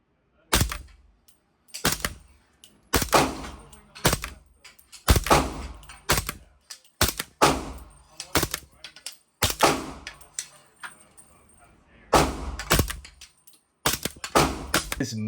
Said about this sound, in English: shooting suppressed is just fun.